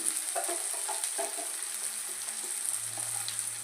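Small tomatoes frying in a pan, a soft continuous sizzle with light stirring clicks, close and fairly quiet with no voices.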